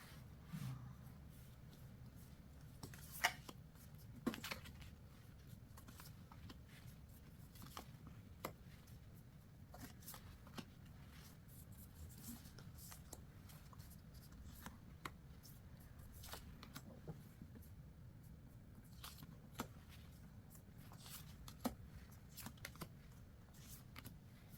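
Tarot cards are handled and shuffled while being selected, giving faint, soft papery rustles and light flicks at irregular intervals against a quiet background.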